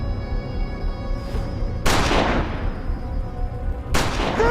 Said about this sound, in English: 2 shots ring out.